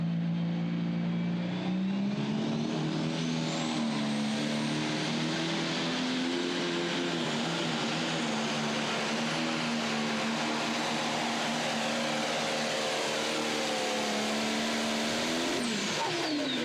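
A pro stock tractor's engine at a tractor pull in Goshen, Indiana, builds boost with a loud, sustained roar, its pitch climbing gradually and holding steady before a whine rises near the end, continuous and close throughout.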